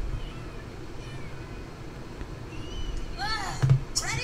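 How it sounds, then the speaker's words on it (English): Cat meows in a video game rise near the end, a couple of short cries over a low steady background hum. "I can hear them going meow meow."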